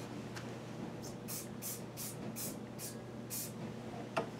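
Super glue activator sprayed from a pump bottle, heard as a run of about six short hissing bursts in steady rhythm, close by and fairly quiet, over a low background hum.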